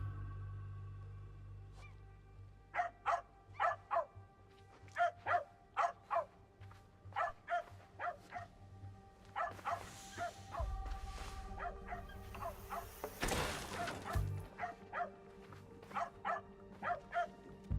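A dog in the video game Assassin's Creed Shadows barks repeatedly in quick irregular bursts over low background ambience, loud and close, with a brief noisy rush partway through.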